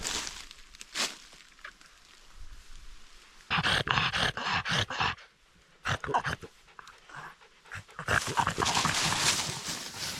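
Dogs scuffle and pant nearby in bursts of movement through a mixed birch and aspen forest, with rustling and a few sharp yips scattered through the clip.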